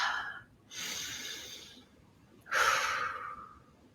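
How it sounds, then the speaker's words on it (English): Two breathy exhalations, the second louder and longer like a yawn, during a quiet guided relaxation, heard up close with soft gaps of silence between them. "I have a little yawn that's like shifting energy there."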